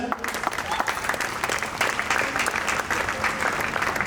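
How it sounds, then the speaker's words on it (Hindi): Lively audience applause at a theatre workshop event, a steady, dense burst of many hands clapping close by for the whole stretch, with faint voices mixed in. "गोल्डी मैम के लिए तालियां।"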